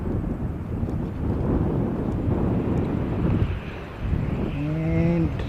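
An ATR turboprop airliner approaches to land, a broad roaring rumble buffeted by wind on the microphone, with a short tonal whine rising near the end.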